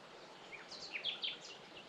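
Small birds sing in an overgrown garden among weeds, ferns and ivy, a few faint high chirps and short warbled phrases in quick succession over quiet background hiss.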